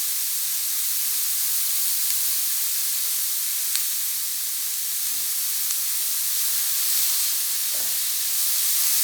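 Onion sautéing in a pan makes a steady, close, even hiss and sizzle, constant throughout with a few small pops and no talking.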